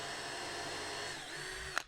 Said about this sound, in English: I want to come in and pre-drill